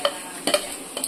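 Ginger, garlic and onion paste stirred in a hot pan, a soft sizzle broken by three scraping strokes of a spoon against the pan.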